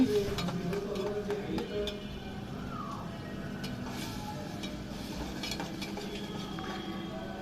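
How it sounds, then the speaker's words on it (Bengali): Spice paste being stir-fried in a pan for a pangas fish bhuna, with a steady low sizzle and occasional spatula scrapes and clinks against the pan, fairly close and continuous. "মশলাটা কষিয়ে নিচ্ছি।"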